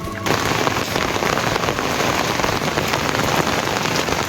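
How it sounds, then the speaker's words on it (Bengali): Heavy all-day rain pours steadily over a village, a dense, loud hiss of drops drumming on surfaces with no pauses. "সকাল থেকে ঠাই বৃষ্টিই হয়ে যাচ্ছে"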